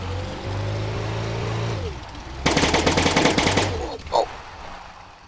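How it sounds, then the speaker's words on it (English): Rapid burst of automatic gunfire in a video game, loud and dense, rattling for about a second after a vehicle engine drone fades, then a single sharper report. "I probably scared him with the gunshots"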